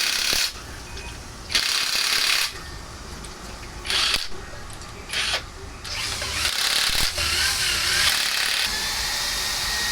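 Bursts of a power tool, likely an impact wrench, tightening parts on an Isuzu 4HG1 engine being reconditioned, several short whirring runs separated by pauses, near and fairly loud, with a longer steady run near the end.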